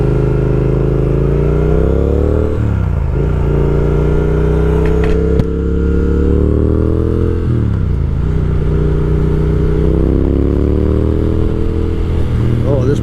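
A 2020 Triumph Speed Twin motorcycle under way on the road, its engine droning loud and close with rising revs through the gears and two drops between shifts, wind noise throughout.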